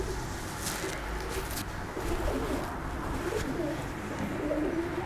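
A pigeon coos softly in low, repeated rolling calls over a steady background hiss, fairly faint and with no talk.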